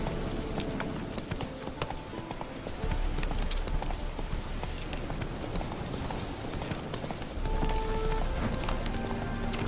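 Roach the horse from The Witcher 3 gallops at a steady pace, with continuous rhythmic clip-clop hoofbeats over a rumbling low background and faint rain-like patter throughout.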